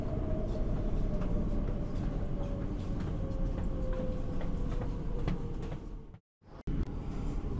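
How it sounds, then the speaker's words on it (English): Steady rumbling of an Elizabeth line passenger train on rails approaching Paddington, with a low continuous hum and faint rhythmic clicks, briefly dropping to near silence before resuming. "The train's approaching Paddington now, where this train terminates"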